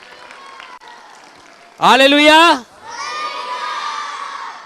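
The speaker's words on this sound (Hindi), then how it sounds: "जोर से तालियां इनके लिए।" A church-show studio audience breaks into a short, loud burst of cheering and shouting with some applause, set between stretches of speech.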